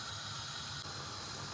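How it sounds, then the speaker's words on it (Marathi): Sweet potato chakolya boiling in a pot on a high gas flame, giving a faint, steady hiss of bubbling water and steam with no voices. "याला उकळी आलेली आहे"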